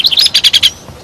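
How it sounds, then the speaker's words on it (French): A small bird chirps a quick run of about eight bright, high tweets in a steady rhythm, close and clear, then falls silent. "Les oiseaux se remettent à chanter."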